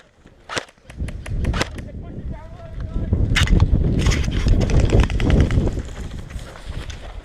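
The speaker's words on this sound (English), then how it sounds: "Come on, run, I'm shooting at him." Airsoft guns firing outdoors at an airsoft park toward a running player: a handful of sharp snapping shots at the start and a few more later, with rustling movement and voices in the background.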